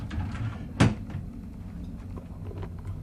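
A cabin drawer on the Carnival Vista cruise ship slides open in one short, sharp bump over a low steady room hum, close by and with no talk.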